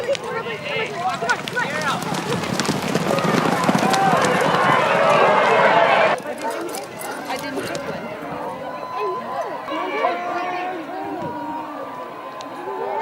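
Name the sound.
racehorses galloping in the 5th race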